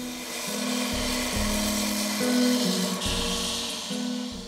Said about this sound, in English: I didn't have the steel one, so I used the belt sander to remove the rust.